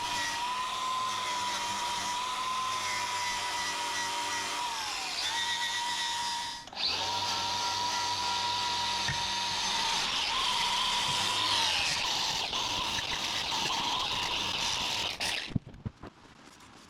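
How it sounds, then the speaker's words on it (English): An electric grinder whines steadily as it scours thick gunk off a 1956 VW Beetle gearbox during a transmission restoration, its pitch dipping briefly under load before running on and cutting off near the end. "let's get the grinder and clean up all this gunk"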